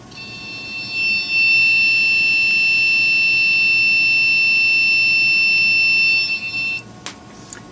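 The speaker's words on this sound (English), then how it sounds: "Let's give the generic off of eBay a try." A generic eBay micro buzzer, powered from a 5-volt supply, emits one continuous shrill electronic tone for about five seconds before cutting off, loud and close with little else around it.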